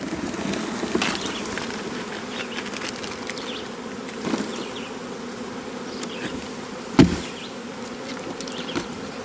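Honey bees shaken into a container for mite testing buzz in a dense, continuous hum, close and steady, with a few sharper knocks and bumps against the container.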